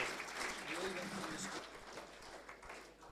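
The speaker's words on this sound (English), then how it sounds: "So a big round of applause for Andrew Batten and everything he's done tonight." An audience at a senior football league presentation dinner applauds the vote caller, a moderate spread of clapping across the room with voices talking over it.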